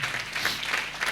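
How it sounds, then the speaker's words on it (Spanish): Church congregation clapping together in a brief, steady burst of applause, moderately loud and close, with no voices standing out. "Dale un fuerte aplauso al que merece toda la gloria y toda la honra."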